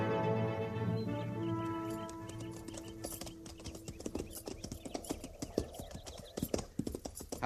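Horses clip-clop in a frontier cavalry radio drama, a dense, close rhythm of hoofbeats that builds after a fading musical passage, with a brief whinny-like tone mixed in.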